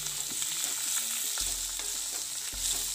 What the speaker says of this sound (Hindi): इसको मीडियम फ्लेम पे थोड़ी देर इसको भूनते हैं।